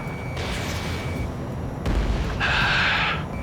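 Anti-aircraft fire from ground vehicles in the Ace Combat 7 combat flight game, heard as a steady rumbling barrage with booming bursts, growing louder near the end over constant low battle noise.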